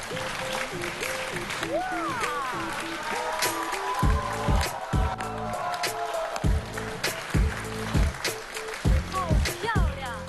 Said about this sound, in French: Vous avez entendu les ovations du public, encore une fois?